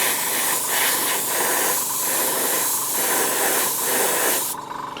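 Spray paint hisses from an aerosol can in short repeated bursts, applied in light coats over a stencil for a miniature wargame landing pad, close and steady, stopping abruptly near the end.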